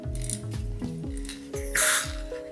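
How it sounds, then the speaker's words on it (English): A Primus burner is unscrewed from a gas canister, producing a series of metallic clicks as the threads turn, then a short hissing puff as the canister valve closes, all close up. "You will hear a sound, the valve will close."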